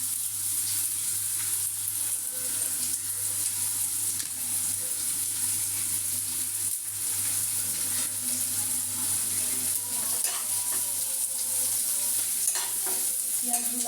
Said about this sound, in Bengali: পেঁয়াজগুলো আমি বাদামি করে ভেজে নিব জালটা বাড়িয়ে।